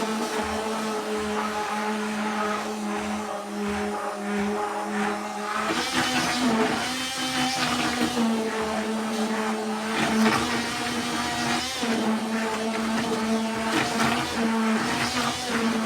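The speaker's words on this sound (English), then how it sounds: "try to take my stick blender and blend in" A stick blender whirs steadily while mixing a batch of homemade laundry detergent, a loud continuous motor hum whose pitch shifts slightly as it works, with no talking.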